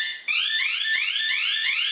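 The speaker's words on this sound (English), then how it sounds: "We also have a alarm here, which will tell everybody locally here that you're having an issue." An elevator's emergency alarm rings loudly as a rapid, repeating rising whoop, each sweep following close on the last, close by and alone after a brief pause at the start.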